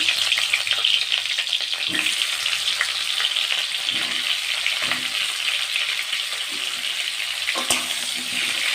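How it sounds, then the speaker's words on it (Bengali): Salted, turmeric-coated cauliflower florets frying in hot oil, a loud, continuous close sizzle broken by occasional stirring knocks and sharper crackles, with no voices. "তেলটা গরম হয়ে গেছে, এখন আমি ফুলকপিগুলো সুন্দর করে ভেজে নেব।"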